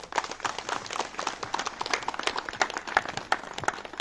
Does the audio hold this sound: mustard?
no